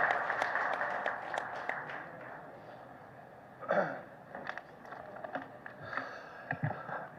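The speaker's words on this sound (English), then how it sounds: "The huge round of applause." An audience at an automobile dealers' association gathering claps in a sparse, thin patter that fades and returns in scattered bursts, fairly faint and in a large room.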